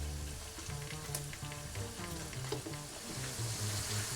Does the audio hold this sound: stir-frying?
yes